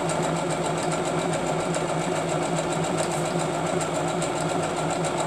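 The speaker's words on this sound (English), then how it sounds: "I'm going to try to start my stitch right here on the end of the, and I'm going to go around." Sewing machine stitching down fabric pieces for a Lancaster Rose quilt, a steady, continuous motor hum with fast needle clatter running close and even throughout, with no talking.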